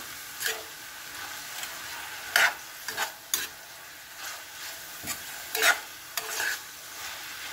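Sotanghon glass noodles with egg and chicken liver stirred in a pan, giving soft scraping strokes and light sizzling in irregular bursts, moderately close with no talking.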